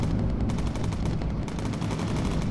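Aircraft gunfire in the WWII bomber video game Bomber Crew, with dense rapid bursts of machine-gun fire filling the whole moment, loud and continuous with a short break partway, and no talking.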